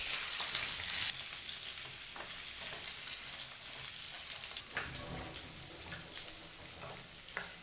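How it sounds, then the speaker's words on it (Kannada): Onion pieces frying in a pan over a medium flame for an onion gravy, a steady close hiss and crackle of hot oil with occasional scraping stirs. "ಈಗ ಈರುಳ್ಳಿನ 2 ರಿಂದ 3 ನಿಮಿಷಗಳ ಕಾಲ ಮೀಡಿಯಂ ಫ್ಲೇಮ್ನಲ್ಲೇ ಫ್ರೈ ಮಾಡ್ಕೋಬೇಕು."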